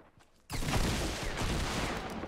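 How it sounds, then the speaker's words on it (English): A double barrel shotgun in Fortnite goes off in a sudden loud blast followed by a sustained heavy roar of gunfire and rumble, with no voices over it. "Oh, I love this double barrel."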